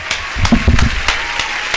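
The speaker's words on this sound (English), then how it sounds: "Yeah, let's clap it up for that, man, for sure." A short burst of clapping and applause from a small group, a brief cluster of claps that thins into a few scattered ones.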